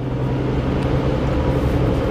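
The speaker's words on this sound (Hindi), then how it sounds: "ये छोटी सी क्विड और इतना तगड़ा पिकअप ले रही है भाई साहब" A Renault Kwid car accelerating hard in fourth gear, a steady loud low engine drone that holds evenly throughout without any talk.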